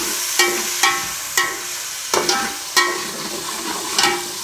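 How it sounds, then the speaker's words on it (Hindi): Tomatoes frying in a pan with browned onion, ginger and garlic, loud steady sizzling broken by a series of sharp scraping stirs at irregular intervals, with no voices. "अदरक लहसुन और जो प्याज है थोड़ा और ब्राउन हो गया, अब टमाटर डाल रहा हूँ।"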